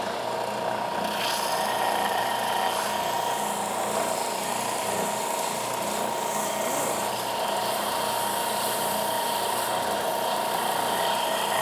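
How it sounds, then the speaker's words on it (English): An oscillating spindle sander works on wood with a continuous, even buzzing drone close by that holds steady for the whole stretch, with no voices over it. "let's set that up and do a little bit of sanding and see how well that works."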